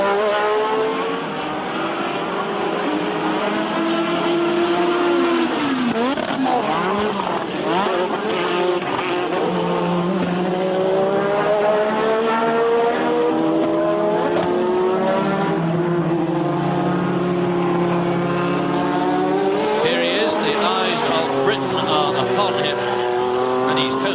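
Formula 1 cars during qualifying at Brands Hatch in 1986, their high engine whines rising and falling as they pass, heard under continuous commentary.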